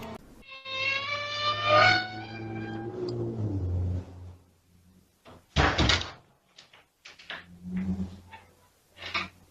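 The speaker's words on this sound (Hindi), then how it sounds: "दरवाजा अपने आप हिलता है।" An attic door moving by itself, picked up by a CCTV camera: a long, drawn-out creak rises and falls, followed after a pause by several sharp knocks and thuds of varying loudness.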